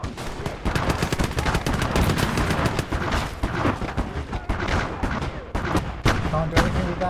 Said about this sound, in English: That's a heavy flak.